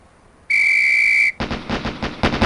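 A single long, loud whistle blast sounds alone in a SWAT training range in Police Quest: SWAT, then gives way to a rapid burst of sharp gunshot-like cracks.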